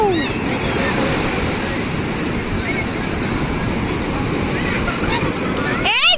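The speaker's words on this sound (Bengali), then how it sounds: "মারাত্মক ঢেউ।" Surf crashes and rushes without a break at Calangute Beach, Goa, a loud, wide roar of sea waves with wind buffeting the microphone and voices talking now and then.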